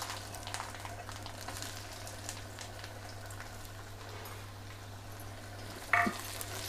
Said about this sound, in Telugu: అల్లం వేయించుకోవాలి